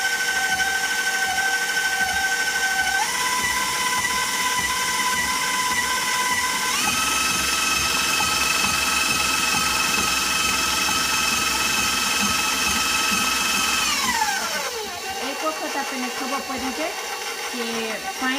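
An electric mixer beats cookie dough with vanilla for Mexican wedding cakes, whirring steadily with a loud motor whine that steps up in speed twice before winding down near the end.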